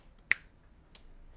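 A single sharp finger snap, close and crisp, standing alone against near silence with a faint softer click trailing a moment later.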